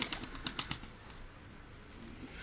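Young Ala pigeons take off from the ground in a quick flurry of close, sharp wing flaps over the first second, then the flapping fades into faint background noise.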